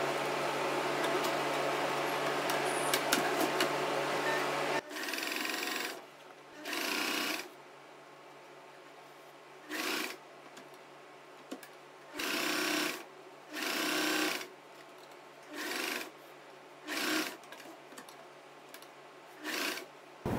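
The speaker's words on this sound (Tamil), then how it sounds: "இந்த ஓரத்துலலாம் இந்த மாதிரியான ஒரு லேஸ் கொடுத்து நம்ம எப்படி வந்து ஸ்டிச் பண்ணலாங்கிறத பார்ப்போம்" A sewing machine stitches lace along the edge of a churidar neckline in repeated bursts, each run lasting about a second, separated by pauses as the fabric is turned, close and clear with no talk.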